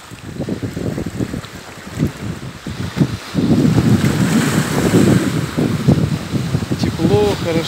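Waves and wind on a Black Sea shore in Crimea, steady and loud, with surf washing in and gusty wind buffeting the microphone throughout.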